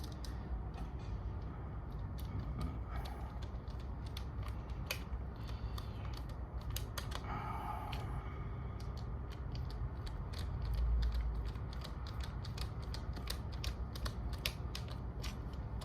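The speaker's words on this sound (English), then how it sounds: "this kind of set of screws right here that line right up together. Just gonna tighten those down." Screws being tightened down on a homemade generator plug, heard up close as a long run of quick metallic clicks and light ratcheting creaks over a quiet room.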